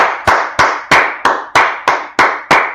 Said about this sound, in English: Let's first clap it up for the Most High God.